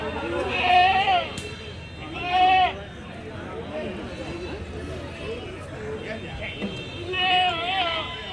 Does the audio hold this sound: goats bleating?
yes